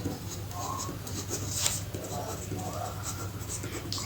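Soft scratching of a pen or chalk writing math working in a classroom lesson, faint and continuous under low background noise with a few brief strokes.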